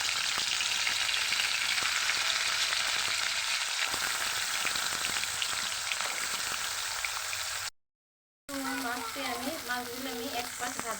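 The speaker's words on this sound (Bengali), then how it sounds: "এখন মাছগুলো আমি হালকা করে ভেজে নেব" Surma river fish frying in soybean oil, a loud continuous crackling sizzle with light stirring, interrupted by a short silent gap before the frying resumes under a faint voice.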